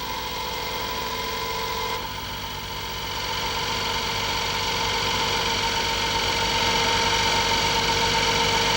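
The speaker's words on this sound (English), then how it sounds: "The bolt is pulled out with an electrical high-pressure pump." An electrical high-pressure hydraulic pump drives steadily as it pulls a bolt out, making a loud, continuous mechanical hum and whine that shifts slightly in pitch partway through and then builds, with no voices.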